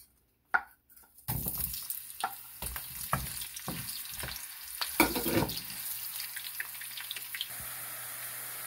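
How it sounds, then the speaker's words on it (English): Onion hits hot oil in a second pan for pampano fish paksiw adobo, breaking a near-silence with a sudden loud sizzle that settles into steady crackling frying, punctuated by repeated stirring scrapes close by. "I'm gonna saute in the other pan my onion and"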